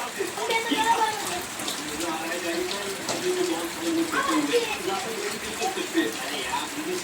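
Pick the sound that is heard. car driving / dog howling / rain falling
rain falling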